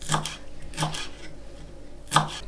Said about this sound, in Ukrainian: Потрібно нарізати зелень, я маю кропчик.